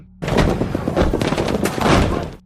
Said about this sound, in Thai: เสียงปืนดังขึ้นอีกหลายนัด